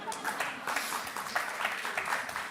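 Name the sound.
studio audience applause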